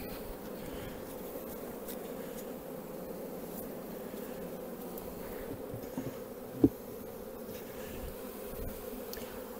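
Honey bees buzzing around a bucket during queen cell introductions into nucleus hives, a steady close hum of many wings that continues throughout with one brief knock.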